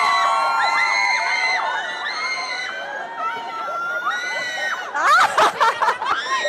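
Audience at a live cooking demo for char siu puffs at a food expo shouts and cheers loudly, a sustained crowd roar with excited voices that swells into a burst of screams and whoops near the end.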